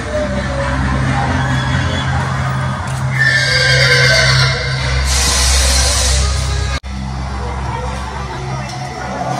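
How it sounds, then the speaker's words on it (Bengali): A horse whinnies loudly nearby over a busy background rumble near a station in Kolkata, its neigh rising and falling for a couple of seconds before the noise continues. "ঘোড়াটা কিন্তু ডাকলো।"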